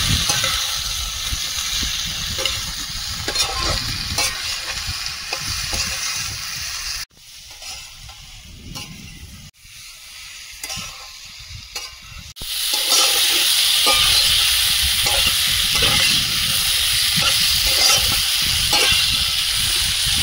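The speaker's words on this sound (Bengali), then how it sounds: "এবার চিংড়ি, আলু, এঁচড় সব একসঙ্গে দিয়ে দেবো। মশলার সঙ্গে ভালোভাবে আরেকটু কষিয়ে নেব।" Shrimp, potato and young jackfruit sautéing together in spiced oil, a loud continuous sizzle broken by ladle scrapes and stirs, dropping briefly quieter midway before surging into a strong bright hiss, close up with no speech.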